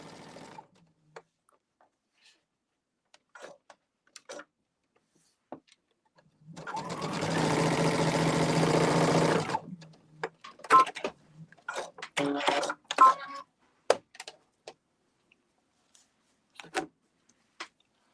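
Sewing machine stitching small fabric triangles for quilt blocks, a close, steady whirring burst of about three seconds, followed by scattered handling clicks and rustles in a quiet room.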